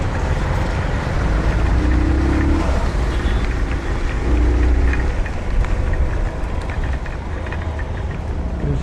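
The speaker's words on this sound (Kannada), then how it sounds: "ಮಳೆ ತುಂಬ ಜೋರಿದೆ" Heavy rain beats down while a 2024 Mahindra Thar RWD drives through Bangalore, producing a steady, loud, broadband roar of water and road and wind noise that persists throughout without pause.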